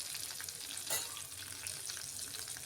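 Cumin seeds and asafoetida sizzle in a small amount of hot oil for a spiced okra dish, a steady close frying hiss that runs the whole time with a brief crackle burst near the start and no talking.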